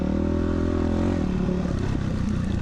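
A 2000 Yamaha YZ426F four-stroke dirt bike goes over a small jump on a trail, its big single-cylinder engine thumping and revving loudly up close throughout.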